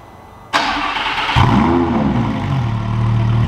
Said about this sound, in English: Lamborghini, cold startup.